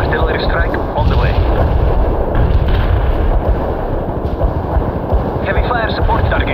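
An artillery barrage in the PC strategy game World in Conflict, with dense, continuous rumbling booms and blasts rolling over one another and loud, crackling impacts, with some voices faintly mixed in.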